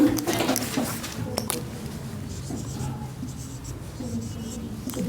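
Chalk or marker strokes on a classroom board during a Sanskrit grammar lesson, a run of scratchy taps and scrapes that is strongest at the start and continues more lightly beneath a teacher's low voice.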